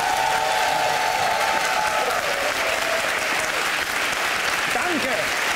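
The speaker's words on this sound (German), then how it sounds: "klatscht bitte jetzt. Männer." A studio audience at a German improv comedy show claps loudly and continuously for several seconds, a thick wash of many hands with a few voices and calls rising briefly through the noise.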